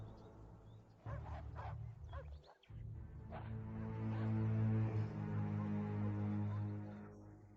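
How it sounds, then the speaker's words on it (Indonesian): A dog gives a run of whining yips and short barks, fairly close, with a brief pause before a longer, steadier whine-like bark sequence that fades toward the end. "Anjing ini menggonggong."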